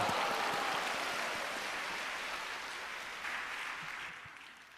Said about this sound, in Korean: 이태리에서는 이 브라보라고 외치면서 박수를 칩니다.